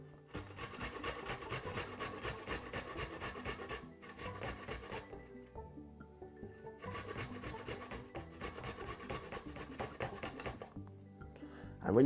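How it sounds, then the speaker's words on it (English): Ginger root scraped back and forth on a grater into a big bowl, a dry rasping in rapid repeated bursts with short pauses between strokes, close and clear with no talking over it. "all you're going to do is to grate your ginger"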